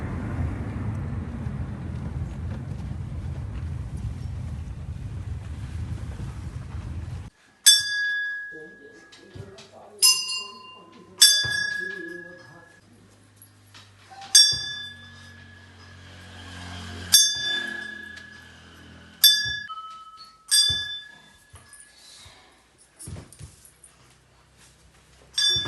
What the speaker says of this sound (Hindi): घंटी मारने हैं सामने घंटी मारने हैं